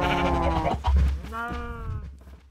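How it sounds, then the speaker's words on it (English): A herd of cattle in a video game calls out in drawn-out bleating moos that overlap one another, loud and close, with no other sound above them. "I've got this herd of cattle following me."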